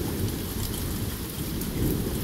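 Thunderstorm in Denver with steady heavy rain and a continuous low thunder rumble, close and even in loudness throughout, with no voices.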